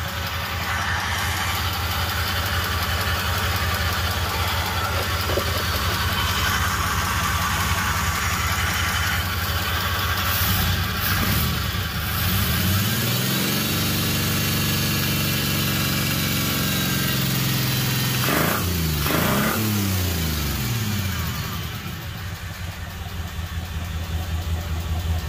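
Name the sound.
car engine running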